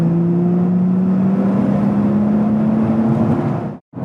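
Turbocharged Ford Barra engine in a car pulling hard uphill under boost, a loud steady drone rising slowly in pitch for several seconds before cutting off abruptly near the end.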